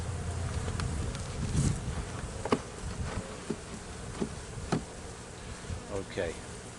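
Agitated honeybees buzzing close around an open hive during a March inspection, a dense droning hum with individual bees zipping past the microphone in loud passes.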